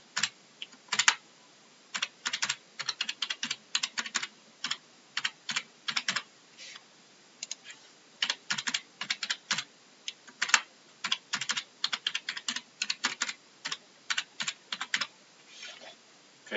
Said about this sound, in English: Now, you will type in your first and last name.